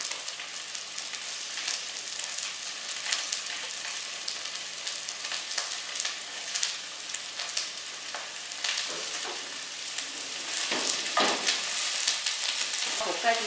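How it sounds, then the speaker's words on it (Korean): Green onion and onion stir-frying in oil, a continuous crackling sizzle with occasional scraping and stirring bursts, close and moderately loud, alone without talk. "일단 파기름이 나듯이 이렇게 파와 양파를 넣고 먼저 좀"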